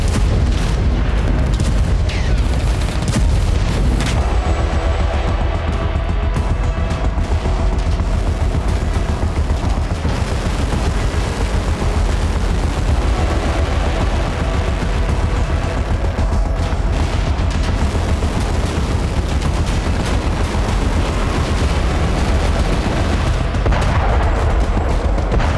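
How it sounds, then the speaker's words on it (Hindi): Continuous heavy booming and gunfire-like blasts fill the whole stretch, loud and dense, consistent with North Korean artillery shells being fired toward South Korea, with no speech heard. "दक्षिण कोरिया पर 200 गोले दाग कर किम ने बता दिया"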